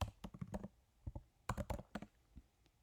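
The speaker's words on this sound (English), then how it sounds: "I'm going to type in moon jelly" Typing on a computer keyboard, a quick run of close, crisp key clicks in short bursts with brief pauses between them, quiet and alone with no talking.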